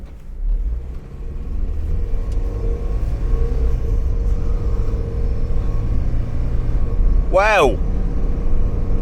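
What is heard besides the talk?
Mazda Miata accelerating on the road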